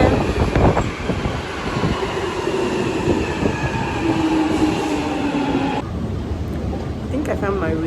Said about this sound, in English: I think the train is here.